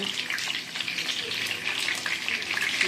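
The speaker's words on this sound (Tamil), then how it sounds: "இந்த மஞ்சள் தூள் உப்பு சேர்த்து வதக்கிக்கோங்க" Food sautéing in a pan with turmeric powder and salt, a steady hissing sizzle that stays close and fairly even throughout, with no talk over it.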